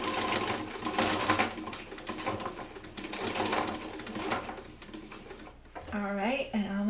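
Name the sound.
sewing machine stitching a bubble quilt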